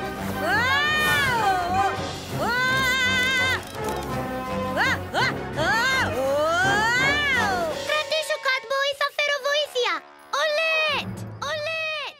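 A small flying kitten in a Greek-dubbed PJ Masks cartoon gives a string of high, wavering meows, with chimes and background voices mixed in, then short chirpy squeaks toward the end.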